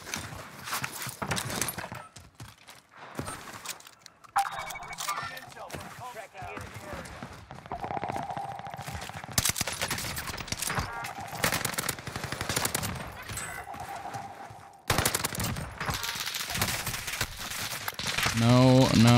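Rapid gunfire and bursts of shots in the Warzone video game, dense and continuous under steady game sounds, with a player talking over the action.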